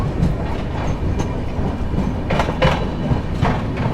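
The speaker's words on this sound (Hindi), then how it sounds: "तो 2 मिनट रुकने के बाद हमारी ट्रेन कडप्पा से डिपार्चर ले रही है" The Chennai Express passenger train rolls away from Kadapa station, with a steady close rumble of carriage wheels, repeated clickety-clack rail joints and rushing air, with no talking.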